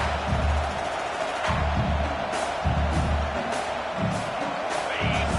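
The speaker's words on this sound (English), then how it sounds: "This crowd, full throat, splitting the eardrums" A stadium crowd in a football video game roars at full volume in continuous waves of cheering, with repeated surges and whoops rising over the broad wash of noise.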